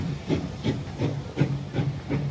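Old steam train passing, a regular chuffing beat of about five or six hissing puffs over a low rumble, moderately loud and steady.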